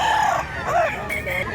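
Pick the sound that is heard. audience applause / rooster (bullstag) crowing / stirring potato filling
rooster (bullstag) crowing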